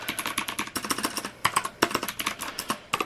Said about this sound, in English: I'm obsessed with the keyboard noises